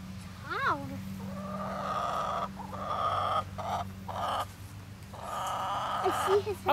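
Chickens cluck and squawk close by in an outdoor yard as they attack a turtle, with a person talking over them.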